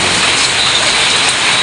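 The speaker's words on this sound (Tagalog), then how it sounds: "Grabe ang ulan dito sa amin." Heavy rain pours steadily at an outdoor construction site where concrete is to be poured, a dense, loud, unbroken hiss with no pauses and no talk.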